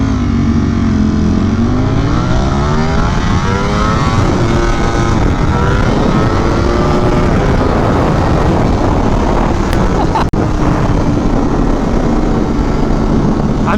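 A Ducati Streetfighter V4S motorcycle engine rises and falls through revs as the bike is ridden, loud and steady throughout, with a rushing wind-like roar and a brief dip near the end.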